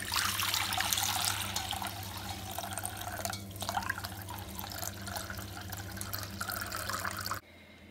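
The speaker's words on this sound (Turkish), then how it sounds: "Şimdi ben bu tortudan ayırmak için süzeceğim. Şu şekilde bir süzgeç kullanıyorum." Cinnamon-infused water poured through a kitchen strainer to separate the powdered cinnamon sediment, a close, continuous trickle and patter of liquid that stops abruptly near the end.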